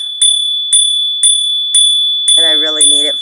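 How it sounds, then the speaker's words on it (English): Small cast iron bell struck about six times at a steady half-second rhythm, each ring clear and close with a sustained bright tone, and a voice speaking over the last strokes. "I love my little cast iron bell."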